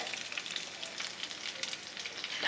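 Vegetable cheese balls fry in oil with a continuous, close, crackling sizzle, dense and even with small bubbling pops and no speech.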